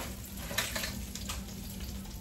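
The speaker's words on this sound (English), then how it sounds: "This fryer fry so good." Pork chops fry in a fryer of hot oil, giving a steady close sizzle and crackle with no talk.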